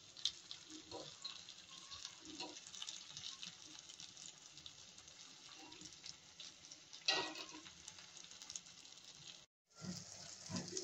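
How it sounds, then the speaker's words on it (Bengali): Fish fries in a pan with a soft continuous sizzle and crackle, punctuated by a few louder spatters and handling knocks, fairly quiet and close, briefly cutting out near the end before resuming. "এই তো মাছ ভাজি করছিলাম, সেটার কিছু অংশ আপনাদের সাথে শেয়ার করলাম"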